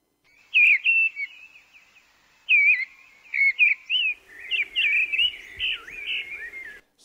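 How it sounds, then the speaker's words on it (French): Bright, warbling redwing song in short whistled phrases, repeated several times with pauses, clear and close in a quiet setting. "Vous reconnaissez ce petit-là? La grive de renne."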